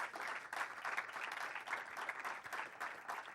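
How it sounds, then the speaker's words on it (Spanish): Church congregation applauding steadily throughout, a dense continuous wash of clapping at moderate distance with no talk over it. "Démosle aplauso al Señor."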